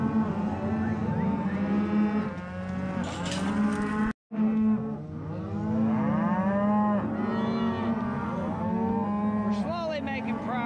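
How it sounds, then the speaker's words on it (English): Cattle moo loudly and repeatedly in a pen while calves are sorted away from their mothers, with overlapping long lowing calls from several animals close by. "they're trying to sort cows with sort the calves off the cows"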